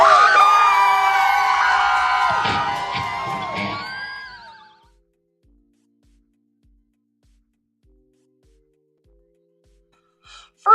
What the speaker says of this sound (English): everybody scream as loud as you can